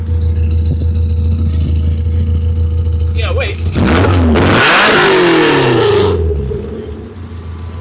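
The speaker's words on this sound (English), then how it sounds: "Of course I want to hear the exhaust." A Tiger R6 car exhaust idles with a low steady rumble, then bursts into a loud, rising rev that roars for a few seconds before dropping back toward idle, while people talk briefly nearby.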